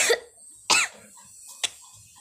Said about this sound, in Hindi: खांसी क्यों आ रही है मुझे